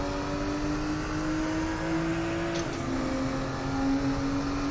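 Porsche 934 race car engine in the RaceRoom racing game, holding a steady high drone with a brief shift in pitch midway as a gear changes, loud and continuous with no talk.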